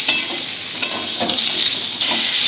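Mixed vegetables for a Bengali panchmishali curry, fried in a pan and stirred, with a lively close sizzle broken by repeated scraping strokes and small bursts of hiss.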